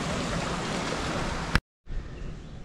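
Sea waves wash against the rocks below the sea wall at Kannur Fort, giving a steady, broadband rush that cuts out briefly and then resumes a little softer.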